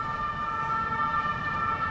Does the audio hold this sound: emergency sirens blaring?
yes